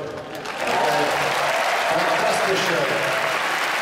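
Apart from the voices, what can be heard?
audience applause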